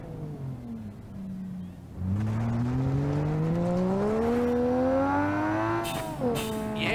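A turbocharged straight-six engine in BeamNG.drive revs up steadily, its pitch climbing for several seconds before a brief dip and a shifting, rising whine at the end, loud and alone.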